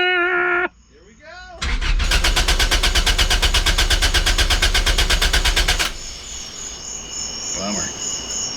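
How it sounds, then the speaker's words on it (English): A Toyota MR2 Spyder fitted with a new turbo cranks and fires for its first start, settling into a loud, fast, even mechanical pulsing for several seconds before cutting out. Voices talk before the start and again after it. "First startup with the turbo on the MR2 Spyder."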